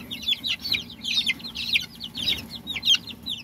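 A small group of young backyard chicks keeps up a busy stream of high, short chirping calls, close and fairly quiet, in repeated quick bursts over faint background noise.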